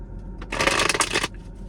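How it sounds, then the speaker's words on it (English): A short riffle of playing cards being shuffled, a quick crisp burst of flapping card noise lasting under a second in a quiet space. "Two little shuffles,"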